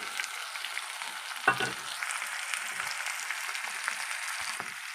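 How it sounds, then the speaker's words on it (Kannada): Pre-mixed masala tipped into ivy gourd (tondekayi) palya frying in a pan, a steady close sizzle with a brief louder splash as it lands and light stirring scrapes, no one speaking. "ಈಗ ನಾವು ಕಲಸಿಟ್ಕೊಂಡಿದ್ದಂತಹ ಮಸಾಲೆಯನ್ನು ಹಾಕೋತಾ ಇದ್ದೀನಿ ರೀ"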